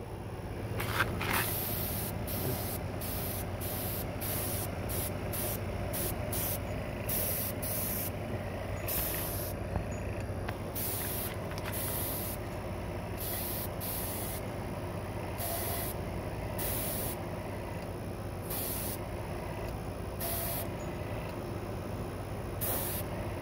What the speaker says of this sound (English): Airbrush takes a little talent.